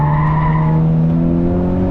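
A race car skids on track during a violent whip, with a loud sustained engine drone and tyre scrub holding steady for two seconds, no voices.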